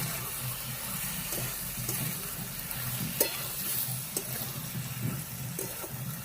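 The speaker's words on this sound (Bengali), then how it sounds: "এবার পরিমাণ মতন হলুদ দিয়ে দেব আবার ভালো করে মিশিয়ে নেবো সব কিছু" Cauliflower stalk curry with potatoes and beans stirred in a pan after turmeric goes in, a steady low sizzle with soft repeated scraping strokes of the spoon and a few light clinks, no voices.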